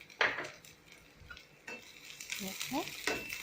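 Fish pieces go back into a frying pan with a few scraping stirs and clinks of utensil on metal, followed by a soft sizzle; the sounds are close but fairly quiet.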